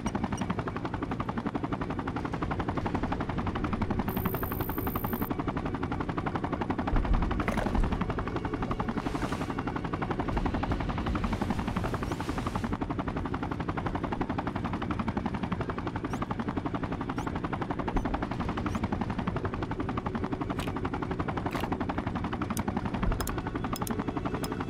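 Dense gunfire fills a war-torn Sarajevo scene in the Sniper: Ghost Warrior 2 video game, with continuous heavy machine-gun bursts and scattered shots over a constant rumbling background.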